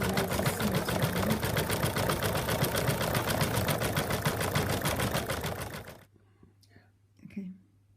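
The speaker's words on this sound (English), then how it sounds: "We've done the satin stitch all around here now" An embroidery machine stitching satin stitch runs with a fast, rapid mechanical needle chatter, loud and close, then stops abruptly near the end, leaving near silence with a brief soft voice.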